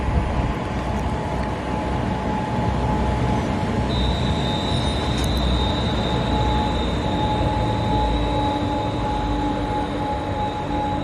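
A passenger train rumbles past steadily while a thin, high brake squeal rises and holds above the rolling noise for several seconds.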